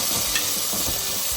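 Tomato pieces and turmeric being stirred in a frying pan for an okra tamarind stew, a steady close sizzle with soft scraping strokes throughout, no talking.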